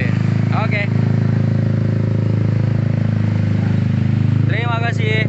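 Yamaha Aerox 155 scooter engine idling through an F2racing CL long exhaust fitted with a dB killer, a steady, mellow low burble that runs continuously while people talk over it in places.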